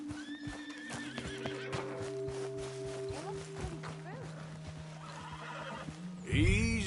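A horse in a PS4 video game whinnies and its hooves clip-clop steadily nearby, with game music and character voices talking alongside, and a loud rumble near the end.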